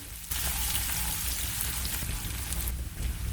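A handful of small onions sauté in a pan for a tamarind okra curry, giving a steady, fine crackling sizzle that carries on throughout without talk.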